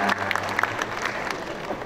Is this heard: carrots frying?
no